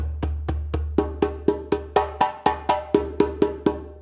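A djembe is struck at a slow, even beginner tempo, about fifteen distinct hand strikes ringing near and loud over a low steady hum.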